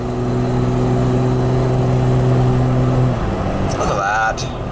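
A 1997 Toyota Land Cruiser FJ80 engine at half throttle, a steady low droning hum from inside the cabin that drops off, followed by a brief higher tone, with voices speaking over it.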